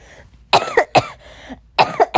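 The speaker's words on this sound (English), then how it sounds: "It was a cough" Two bursts of close, sharp coughing, a pair of quick coughs, a pause, then three more in rapid succession.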